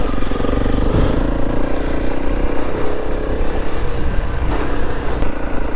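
A motorcycle climbs a rocky coastal trail during a festival trail ride, its engine droning loudly and continuously up close with steady revving and occasional clatter from the rough ground.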